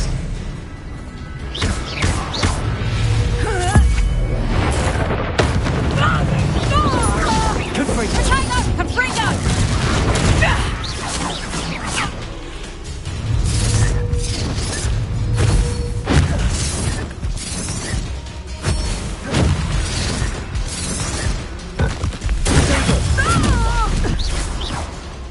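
Spell combat in Hogwarts Legacy: bursts of magical blasts, crashes and thuds come in rapid succession amid shouting voices and a busy mix of effects.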